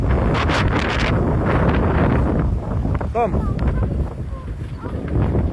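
Steady, loud wind roars across the whole clip, buffeting the microphone, with a brief tonal squeak partway through, outdoors near a fire.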